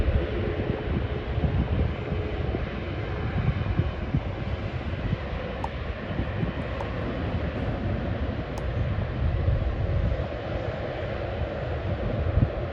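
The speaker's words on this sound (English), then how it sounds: "And also the A380 is almost taking off." An Airbus A380 takes off at Schiphol airport, a steady broad jet roar rumbling continuously from a distance, with no voices.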